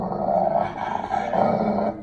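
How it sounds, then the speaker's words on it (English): A dog gives a low, continuous growl at close range, rumbling and rising and falling in waves for about two seconds, with no other sounds. "growl of a dog."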